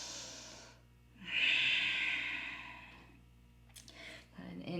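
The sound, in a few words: deep breath during yoga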